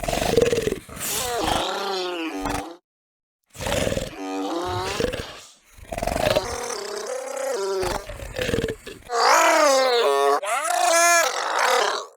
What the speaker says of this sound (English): You can hear that it begins with a distortion of growls